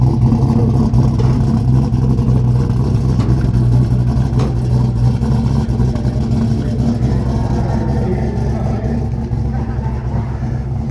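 A Mopar muscle car engine running: a deep, loud, steady rumble close by, with people talking over it.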